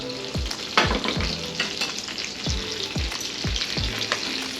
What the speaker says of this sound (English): I'm about to take the meatballs out and fry them in butter.